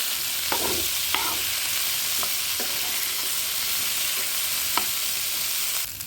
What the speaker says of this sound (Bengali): এখন আমি সবগুলো একসাথে মিশিয়ে তেলের মধ্যে কলাগুলো আগে ভালো করে ভেজে নেব